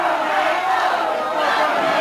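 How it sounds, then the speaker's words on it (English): A wrestling arena crowd at a tag team match yells and chants for Pat O'Connor, a loud, dense wall of massed voices rising and swelling throughout without a break. "The crowd begins to yell and chant for O'Connor."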